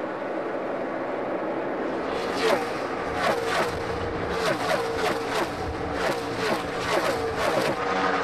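NASCAR stock cars race at the 2013 Hollywood Casino 400, with engines roaring and repeated passing whooshes over a constant track din.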